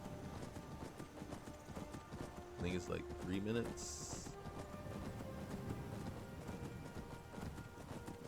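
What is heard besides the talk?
horse hooves clip-clopping while riding in Skyrim video game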